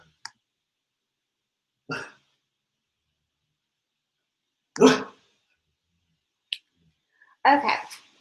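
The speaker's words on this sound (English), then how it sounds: "Sorry about the barking." A dog barks a few times, short sharp yaps scattered with long quiet gaps between them, fairly close, with no one talking, heard at home during an online class webinar.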